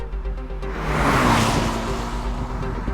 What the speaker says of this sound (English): Now I'm driving on the Michelin Premier AS